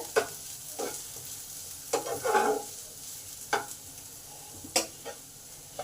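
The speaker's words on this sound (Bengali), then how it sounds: "পেঁয়াজ আরো একটু লাল লাল হয়ে ভাজা হয়েছে" Onions fry in a pan for a spicy mourala fish curry, a steady sizzle broken by several sharp scrapes and clatters of stirring at irregular intervals, close and clear with no talk.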